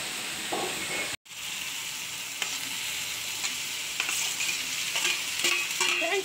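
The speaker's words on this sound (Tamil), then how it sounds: "காலிஃப்ளவரை நம்ம அதுக்கு பொருட்கள் கூட மிக்ஸ் பண்ணிட்டு உப்பு போட்டாச்சு, இஞ்சி பூண்டு பேஸ்ட் போட்டுச்சு" Cauliflower tossed with spices, salt and ginger garlic paste is stirred in a hot pan, a continuous loud sizzle and hiss with scraping stirs throughout, briefly cut off near the start, no talking.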